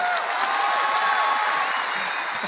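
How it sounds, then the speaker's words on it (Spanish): An audience applauding at a stand-up comedy show, a dense, continuous burst of clapping filling the room, loud and fairly close, with no one talking over it. "fuerte el aplauso para ellos."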